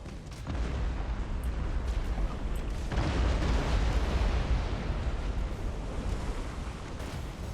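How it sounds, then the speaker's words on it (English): Torpedo explosions in the space battle game Battlefleet Gothic Armada 2, a loud sustained rumbling roar of blasts that swells midway and then slowly tapers, with no talk. "I'm letting myself get killed by torpedoes"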